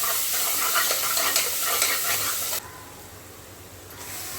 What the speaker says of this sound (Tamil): இஞ்சி பூண்டு பேஸ்ட் ஆட் பண்ணிக்கலாம் இஞ்சி பூண்டும் நல்லா வதங்கினதுக்கப்புறமா நம்ம சிக்கன் போட்டுக்கலாம்